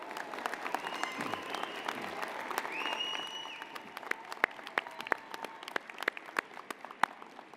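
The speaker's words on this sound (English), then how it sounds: "Make some noise, wave and cheer." Graduates at a University of Calgary convocation ceremony cheer and clap from some distance, faint voices rising first, then thinning into scattered, sharp individual claps.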